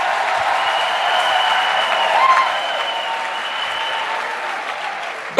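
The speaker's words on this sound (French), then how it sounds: "acclamation à Jésus-Christ." A church congregation applauds for Jesus Christ in a long, even wash of clapping with a few cheers, loud and steady from start to finish with little talk.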